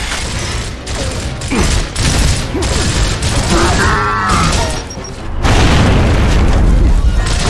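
Loud in-game frag grenade blasts and booming combat in Gears of War, with repeated heavy detonations, gunfire bursts and mechanical clatter; a voice calls out amid the din.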